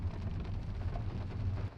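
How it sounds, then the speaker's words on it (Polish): Steady, dense rain patter with a low rumbling wash underneath, continuous and fairly loud throughout, no voices. "czy nie po raz pierwszy nagrywam w takim deszczu"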